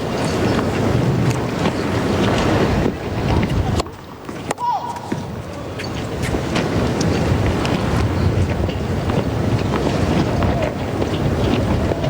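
Strong wind blowing across the microphone at an outdoor professional tennis match in Toronto, a loud rumbling buffet that dips briefly midway, with voices talking underneath.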